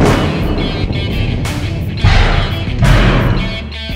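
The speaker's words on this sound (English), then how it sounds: "So let's make the potato shot." An Arduino-controlled pneumatic cannon fires a potato, a loud sustained whooshing blast with booming low rumble that swells twice over about four seconds, close and without talk.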